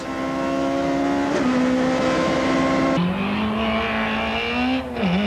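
Nissan rally car racing flat out along a stage over disused air force base runways, its engine loud and close, droning at high revs with a gear change and a brief throttle lift near the end.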